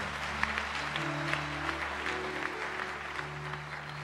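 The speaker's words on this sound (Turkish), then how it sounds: "Bir büyük alkış daha onlara." Studio audience applause on a Turkish TV competition show, a fairly quiet, even patter of many hands lasting a few seconds, with a faint musical hum underneath.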